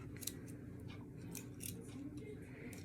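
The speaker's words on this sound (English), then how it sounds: "Pull off the lid and unwrap the tubing all the way." Infusion set tubing being unwrapped from its package, a series of soft crinkling snips and rustles close by over a low steady hum.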